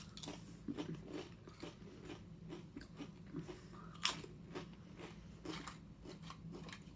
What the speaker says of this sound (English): I like tortilla chips that are slightly thicker. They're crispy, they're salty,